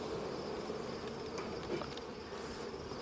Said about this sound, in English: Get my guard bees. They're always the crankiest of the bunch.